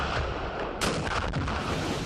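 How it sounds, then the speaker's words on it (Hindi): Ceremonial 21-gun cannon salute fired in Pakistan's cities on national day, March 2019: two heavy booming cannon blasts rise out of a dense, continuous outdoor rumble, loud and fairly close, with no speech. "21-21 तोपों की सलामी दी गई।"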